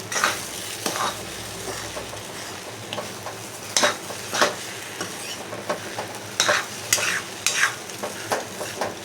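Chicken stir-fried in a kadhai in a home kitchen gives a steady close sizzle, broken by repeated scraping and stirring strokes of the spatula against the pan, with no voices.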